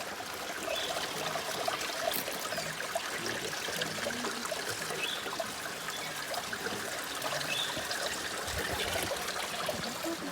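Water trickling and splashing at Thirunelli temple in Wayanad, a steady dense flow that stays even and fairly close throughout, with no voices heard.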